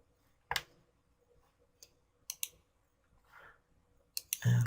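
Sharp, isolated mouse clicks, several spaced irregularly and quiet at a desk, while working in Vue 11 software, followed by a brief louder rustle at the end.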